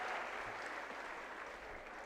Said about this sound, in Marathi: टाळ्या वाजवल्या चालतील.